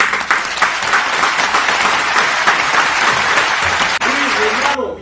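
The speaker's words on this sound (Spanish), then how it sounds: "Recibámoslo con un fuerte aplauso." Strong audience applause greeting a salsa urbana artist as he arrives on a talk show, vigorous clapping with cheers, then a voice begins speaking as it fades near the end.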